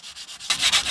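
Sandpaper rubbed by hand across a front-end part of a 1991 Toyota 4Runner, a steady rhythmic scratching in short strokes that grows louder and coarser halfway through, close and alone.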